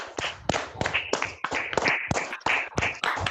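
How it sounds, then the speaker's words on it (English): Clapping from a few participants in an online Toastmasters club meeting welcoming guests, a run of sharp, uneven claps close to the microphone, overlapping one another with no talk. "Let's unmute and give them a good round of applause"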